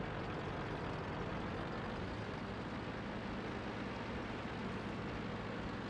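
A stock T1 Cunningham tank drives in World of Tanks, giving a faint, steady, low engine rumble with road noise that holds unchanged throughout.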